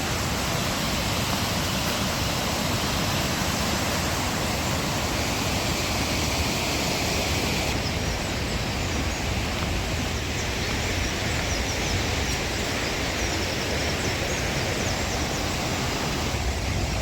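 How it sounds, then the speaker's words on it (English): Hardraw Force in the Yorkshire Dales, England's highest single-drop waterfall, roars as a loud, constant broadband rush of falling water close by, steady throughout with no voices. "This is Hardraw Force. England's highest single drop waterfall"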